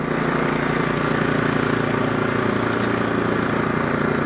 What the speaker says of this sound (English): Let's get the auger spinning. That engine starts up great. It's a 6-speed. Let's get it up to speed. Gear 1.